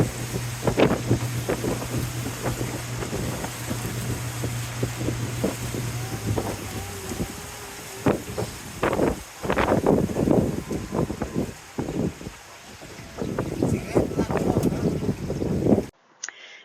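A boat on a churning Amazon river in Manu Park pushes through cold, gusty wind. Steady roar of engine and wind buffeting runs throughout, with irregular thumps and splashes, then cuts off abruptly near the end.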